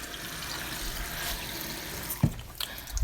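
Water is poured into a glass in a quiet room, a short, soft trickle followed by a few small splashes and clinks near the end.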